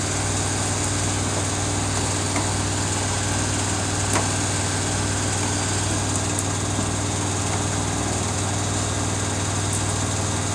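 Samsung WF45N5300AW washing machine with a large load ramping up to high spin speed, giving a loud, steady whirring hum with constant mechanical drone and no talk.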